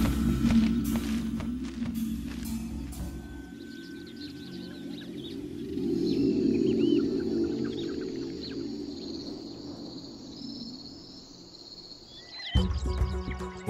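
Bird calling in Mana Pools, Zimbabwe, a series of sharp calls early on, then a sustained tonal call over a low wild-dog-free savanna ambience, with a loud rumble starting and ending the stretch.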